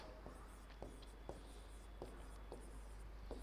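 Chalk or marker writing on a board during a class 10 maths lesson, faint separate strokes every half second or so over a steady background hiss.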